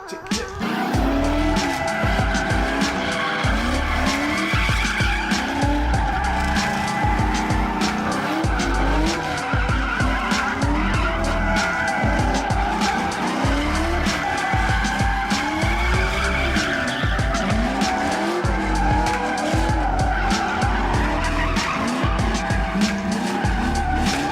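Drift cars, including a 350Z, battle in a figure 8 with long, loud tire squeals and skidding over revving engines, continuous and close for over twenty seconds.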